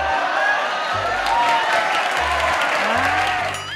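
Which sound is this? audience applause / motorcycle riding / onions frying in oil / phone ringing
audience applause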